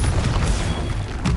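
A Confringo blasting spell goes off in Hogwarts Legacy as a short, loud, booming explosion with a heavy low rumble that fills the whole brief moment, with no talking.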